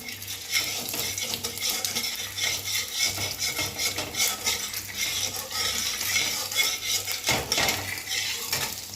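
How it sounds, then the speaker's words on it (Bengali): Small potato pieces frying in hot oil give a continuous close sizzle, with frequent metal scrapes and clinks of a spatula stirring in the pan throughout. "আলুগুলোকে একটু ভেজে নেবো আগে"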